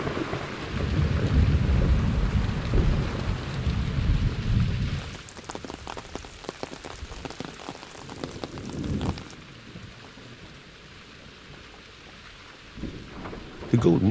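Thunderstorm with heavy rain in Monfragüe in high summer: loud rumbling thunder and dense rain fill the opening seconds, then steady rain patters on surfaces with further rolls of thunder building near the end.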